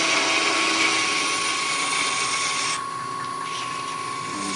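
Woodturning tool scooping out the inside of a knob spinning on a lathe, a steady, loud high whine with a constant pitch, easing slightly softer partway through, no voices over it.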